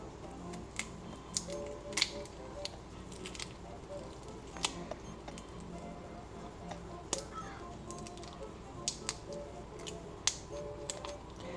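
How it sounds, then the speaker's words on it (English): Raw shrimp peeled by hand at a kitchen counter, with quiet irregular clicks, snaps and crackles of shells coming away, scattered through a soft background hum. "So I'm going to peel my shrimp"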